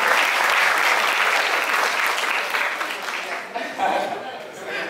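An audience at a seminar in Denpasar breaks into loud sustained applause, many hands clapping together for a few seconds before thinning out and fading.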